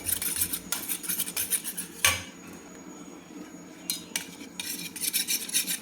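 A spoon scrapes and clinks against a pot while besan kadhi is stirred to break up lumps, in repeated close bursts with a quieter pause in the middle.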